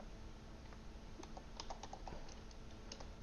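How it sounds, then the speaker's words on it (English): A computer keyboard tapped in a quick irregular burst as a web address is typed, light close clicks over faint room hiss with no talking. "you'll type here in the web address after FamilySearch.org"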